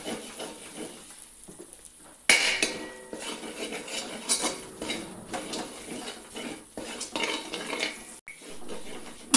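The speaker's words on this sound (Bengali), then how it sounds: "এবার ভালো করে এটাকে কষিয়ে নিতে" Masala with coriander and cumin powder is sautéed in a pan, with a spoon clattering and scraping against the metal over a faint sizzle, in short irregular strokes.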